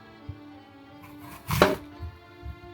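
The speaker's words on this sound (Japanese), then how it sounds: "次はリンゴを切っていきます。" A knife cuts through apples on a board, giving a few scattered, fairly quiet taps followed by one louder crunching slice.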